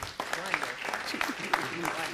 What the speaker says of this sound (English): Get another round of applause for this great team.